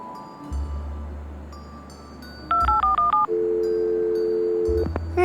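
Touch-tone keypad beeps ring out as a phone number is dialed in the Leisure Suit Larry: Wet Dreams Dry Twice video game, a quick run of six clipped dual tones followed by a long steady tone, loud and clear over a low background hum.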